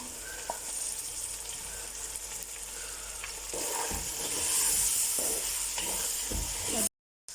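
Tomatoes and green chilies sizzle in hot oil for chicken and peas pulao, a steady close frying hiss that swells louder partway through, with occasional stirring knocks before a sudden cut.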